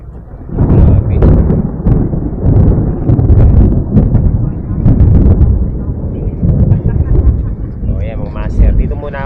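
Deep rumbling thunder rolls on continuously, loud and broad, with gusty wind buffeting the microphone throughout, heard at night by the sea during a lightning storm.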